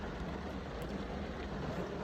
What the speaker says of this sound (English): It's raining again. Actually, it's downpouring.